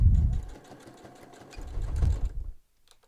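Sewing machine stitching back and forth to reinforce a reversible cotton fabric mask with ties, two short close bursts of humming motor and needle chatter separated by a brief pause, ending in near silence.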